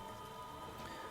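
Rain falls during a Pokémon video game battle, a steady and fairly quiet hiss of drops with no talking.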